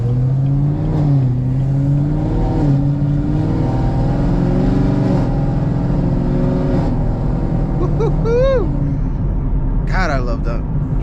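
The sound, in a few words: 750 HP Chevrolet Camaro ZL1 engine while driving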